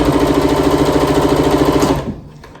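A Janome sewing machine runs at a steady, rapid, even rhythm for about two seconds under foot-pedal control, then slows and stops, loud and close with no voices.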